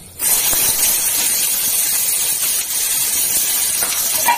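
Nigella seeds sizzle in hot oil in a pan while frying for a spiced pointed gourd (potol) curry, giving a loud, steady broadband hiss that starts abruptly and runs on alone and close up, with faint crackles scattered through it.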